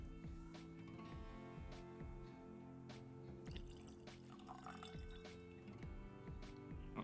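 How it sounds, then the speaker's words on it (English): Glengoyne 18 single malt whisky poured into a glass, heard as quiet, close liquid trickles and drips with small clinks, faint and steady with no talk over it. "let's pour the Glengoyne 18."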